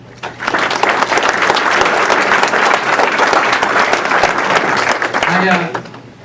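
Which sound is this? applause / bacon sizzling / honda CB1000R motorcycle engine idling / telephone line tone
applause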